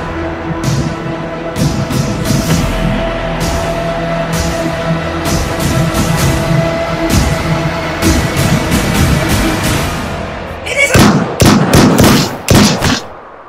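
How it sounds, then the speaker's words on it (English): Soldiers fire a run of sharp gunshots over a loud, dense film-trailer soundscape, the reports spread through the clip and crowding into a harsher burst near the end. "Now, did you count the shots?"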